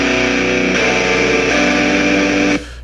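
Compressed, heavily distorted metal guitars panned hard left and right play a loud, dense, sustained chord wall with a few shifts, stopping sharply near the end.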